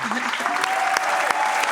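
Live-venue audience clapping for a singer-songwriter at the Lyric, a steady spread of applause with a voice talking over it and a few sharper claps standing out.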